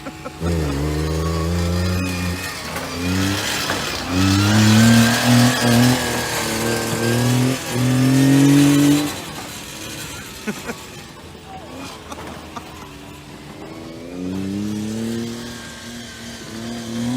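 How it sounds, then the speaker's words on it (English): Hayabusa-swapped mini truck doing a burnout in low gear, its engine revving hard with rising and falling pitch, rough and loud, then easing off before climbing again, with voices talking over it. "Put it in low and do a burnout."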